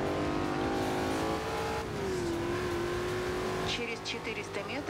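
Muscle car engine in Forza Horizon 2 revving high toward 7000 rpm, a loud rising whine climbing through the gears with brief tire squeal, under someone talking.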